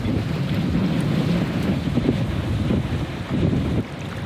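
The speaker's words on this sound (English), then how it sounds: "the wind is pushing us off the dock" Wind blows loud and constant across the microphone at a marina while a boat is docked, with low rumbling gusts and no voices.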